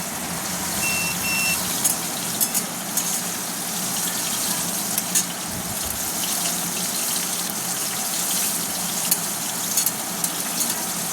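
Washed red amaranth greens dropped into a wok of hot oil tempered with nigella seeds and dried chili, giving a loud, steady, broad hiss of sizzling that holds evenly throughout without any voices.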